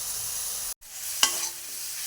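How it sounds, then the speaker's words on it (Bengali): Chicken pieces fry hard in a pan and are stirred, giving a dense hiss with a brief break and a sharp scrape of the spoon midway, close and steady with no talking. "মাংসটা একটু ভালো করে কষিয়ে নিই, ঝোল রাখলে হবে না, একবারে ভাজা ভাজা করে ফেলবো"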